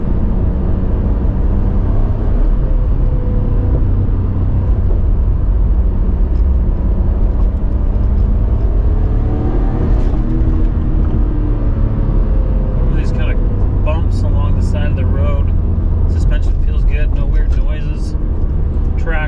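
A 1996 Nissan Skyline GT-R LM V-Spec runs steadily from inside the cabin, its engine a continuous loud low drone with a swell around the middle as a gear is shifted, while someone talks over it throughout.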